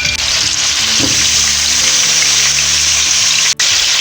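Steady loud sizzling of minced meat frying in hot oil, close up, with a faint stir or clink partway through and no voices.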